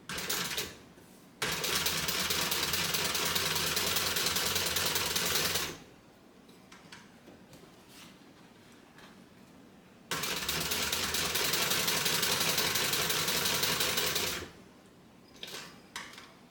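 A sewing machine top-stitches a bag lining in two sustained runs of rapid, even mechanical chatter, separated by a quiet pause and followed by a few faint handling sounds.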